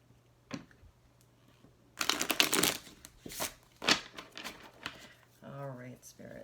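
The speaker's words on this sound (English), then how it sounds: "I don't know why I'm having an issue shuffling this evening" Tarot cards shuffled by hand in bursts of quick riffling and soft slapping, close and moderately loud, with short quiet gaps between handfuls.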